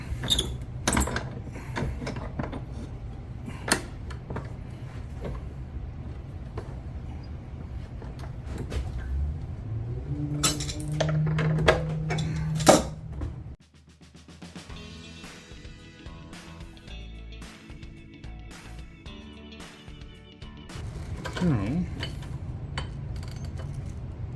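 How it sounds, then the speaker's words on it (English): 200lb monofilament line being spooled onto an 80W fishing reel, a steady mechanical whir and ratcheting with scattered clicks and knocks, close by, shifting to a smoother, tighter winding tone partway through. "I just needed to spool it up so I can get the line capacity on there"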